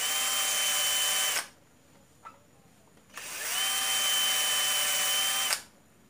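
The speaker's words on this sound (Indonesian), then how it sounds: "Kasih mata bor yang kecil dulu." A power drill with a small bit drills a motorcycle mirror's plastic mount in two high-pitched whining bursts, separated by a short pause, close and loud.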